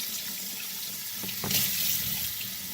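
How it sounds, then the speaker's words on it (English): Tap water runs steadily into a sink to rinse freshly processed rabbit meat. The stream swells briefly partway through and continues close and moderately loud, with no voices. "All right, so I'm going to give this a rinse several times here."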